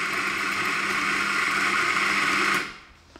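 An espresso coffee grinder set to 8.2 runs into a portafilter basket with a steady, high whirring buzz for about two and a half seconds, then winds down and stops, leaving near silence.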